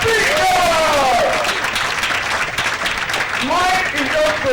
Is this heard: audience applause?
yes